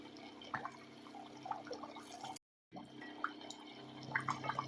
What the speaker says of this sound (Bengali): যখন ঘিটার জাল হচ্ছে, অনেক ফেনা উঠছে, ফেনা তৈরি হচ্ছে পাত্রের উপরে।